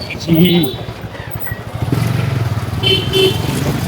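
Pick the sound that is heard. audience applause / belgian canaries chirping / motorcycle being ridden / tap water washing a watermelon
motorcycle being ridden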